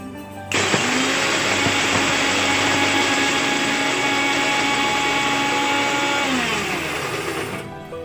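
A kitchen mixer grinder pulverizes almonds and cashews together in one steady, loud, continuous whir that starts abruptly and holds for several seconds before easing slightly at the end.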